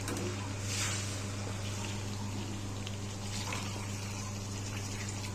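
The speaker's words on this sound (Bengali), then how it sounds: "আমি এবার গরম জলটা গরম করেছিলাম গরম জলটা দিয়ে দেবো" Hot water is poured into a pot of cooking chicken curry with a steady, close gushing rush over a low hum, continuous for the whole span and without talking.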